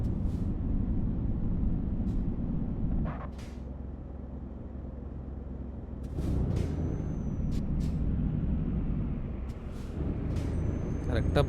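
Truck air brakes in Euro Truck Simulator 2, a Norway to Sweden delivery run, hiss in short bursts over a steady engine drone, with a game voice talking throughout.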